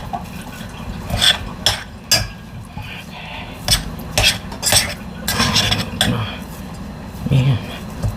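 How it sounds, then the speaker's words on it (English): Hot boiled potatoes are mixed in a bowl for Acadian poutine râpée, with a utensil scraping and clunking in irregular bursts, close by, over a background of boiling water. "I'm going to take these and put it in there and mix it all good"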